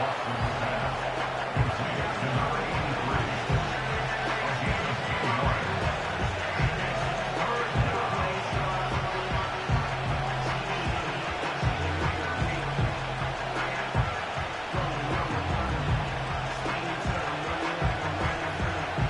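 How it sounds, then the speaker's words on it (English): A football crowd cheering in an American football video game, a steady, dense roar that holds at an even level throughout, under a commentator's voice. "the crowd getting into it as we come up on a big 3rd down"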